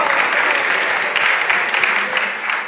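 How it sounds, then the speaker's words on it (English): An audience claps loudly and continuously at a talk featuring a musician and a spiritual speaker, a dense, sustained applause close by. "Clap it up for that"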